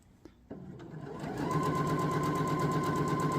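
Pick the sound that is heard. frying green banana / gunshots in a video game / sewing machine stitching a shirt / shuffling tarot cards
sewing machine stitching a shirt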